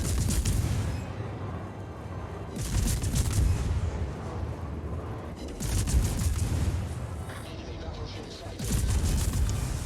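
Heavy naval gun salvos boom out in World of Warships, with a cruiser firing at a Minotaur; four loud, broad blasts arrive a few seconds apart, each trailing off into a low rumble, with talk faintly mixed in.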